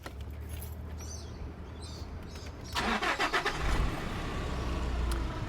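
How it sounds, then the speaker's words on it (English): A 2010 Nissan Pathfinder engine cranks in a short rattling burst about halfway through, catches, and settles into a steady close idle. A quieter low engine hum runs beforehand. "Let's start the engine."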